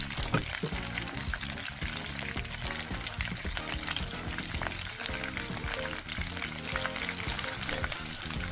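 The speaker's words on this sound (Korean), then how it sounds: "프라이팬에 식용유를 붓고 새우를 튀겨주세요." Steady, dense sizzling and crackling of battered shrimp deep-frying in hot oil in a frying pan, loud and continuous throughout, with occasional stirring clinks.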